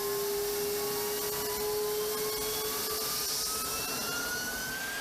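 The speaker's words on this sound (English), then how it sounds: "This is where an engine is pushed to its maximum capabilities." One of the world's most powerful jet engines roars steadily at maximum power during a hot run test, a broad continuous rush with a whining tone that slowly rises in pitch; no voices.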